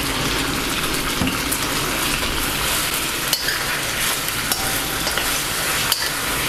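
Pork trotters sizzle and fry in Chinese sauces while being stirred, a steady close hiss of hot liquid with occasional scraping stir strokes and small clicks, no voices.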